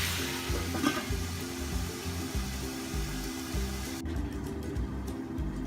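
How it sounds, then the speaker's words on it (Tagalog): Beef for caldereta sizzles steadily in a covered pan, a continuous close frying hiss with a low pulsing rumble underneath, the hiss cutting off abruptly near the end. "Tatakpan po muna natin hanggat magisa ang ating karne ng baka."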